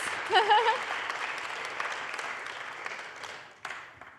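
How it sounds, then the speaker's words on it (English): Audience applause at the Paris summit of a hackathon event, steady moderate clapping from a crowd with a voice briefly heard over it at the start. "Big applause"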